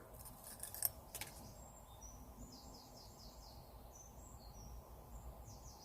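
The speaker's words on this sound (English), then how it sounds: "So I'll cut that wire" Jewellery wire is cut for a ribbons-and-bows pendant: a few quick, sharp snips near the start, then quiet, with faint birdsong in the background.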